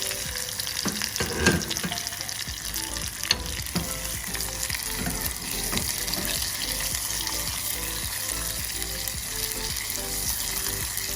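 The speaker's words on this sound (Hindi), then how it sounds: "और इसके बाद फिर हम डालेंगे इसके अंदर सफ़ेद ज़ीरा। और इसको थोड़ा सा हम सौते करेंगे" White cumin seeds sauté in hot oil for a spicy tomato chutney, a steady close sizzle running throughout with a few sharper stirring clatters near the start and no talking.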